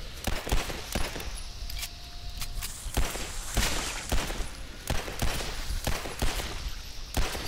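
Scattered sharp gunshots from the game Legendary crack out in irregular bursts, some in quick succession, over faint background rumble and clatter.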